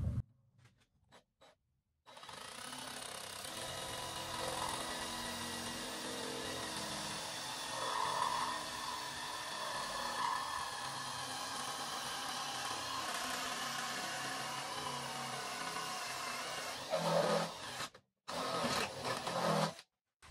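A paddle bit boring through wood for a DIY carpenter bee trap makes a steady, continuous drone that runs for about fifteen seconds, stopping briefly near the start and the end, with no talk over it.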